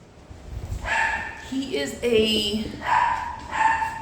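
A small Shih Tzu–Lhasa Apso mix dog gives several high, whiny yips and whimpering barks nearby, in short bursts with brief pauses.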